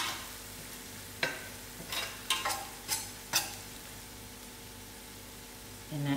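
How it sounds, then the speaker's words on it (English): Masala spices for banana kebabs cook quietly in a pan with a low, faint sizzle. Several sharp clinks and scrapes of a utensil sound against the pan at irregular intervals. "Allow this masala to cook for a few minutes."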